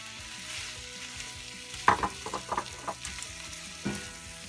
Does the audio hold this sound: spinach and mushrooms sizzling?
yes